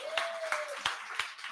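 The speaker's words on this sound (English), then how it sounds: "Big round of applause for Darcy." A pub crowd gives a sparse round of applause for the Listener of the Year, a few separate claps that sound fairly faint. A brief tone slides through early on.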